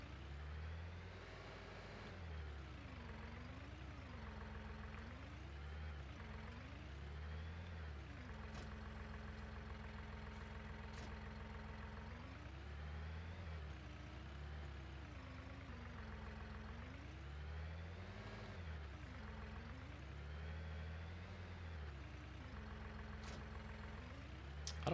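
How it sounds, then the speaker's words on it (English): A small tractor engine in Farming Simulator 19 drones steadily while pulling mowers, its low hum rising and falling in pitch as the load and revs shift, fairly quiet and continuous with no talk. "I wonder if this little tractor will handle these mowers."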